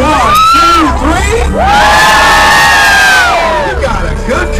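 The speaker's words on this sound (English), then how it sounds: "I want you to throw your hands up and scream" Riders on the NYC Beast speedboat ride scream and cheer together in a loud, sustained crowd shriek, rising in bursts with high wavering voices over the rumble of the boat's engine.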